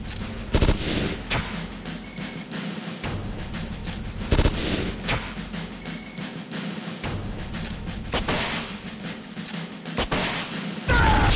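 Gunfire from an M1911A1 pistol in the video game Metal Gear Solid: Peace Walker, with repeated sharp shots and bursts over steady loud game action and background noise.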